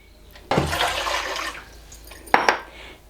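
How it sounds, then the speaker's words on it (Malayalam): A burst of water pours steadily into a cooking pot for about a second, then a second short splash follows, close and fairly loud. "മൂന്ന് കപ്പ് നിറയെ വെള്ളം ഒഴിച്ചു കൊടുക്കുന്നുണ്ട്"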